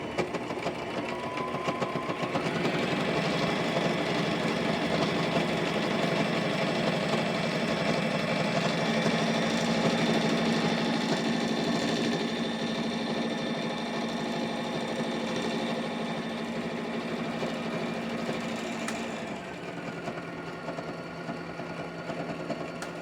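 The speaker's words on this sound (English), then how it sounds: "so that way the sewing machine can do its work" A sewing machine hemming fabric runs continuously at a steady mechanical whir and rattle, loud and close, slowing slightly near the end with no talking over it.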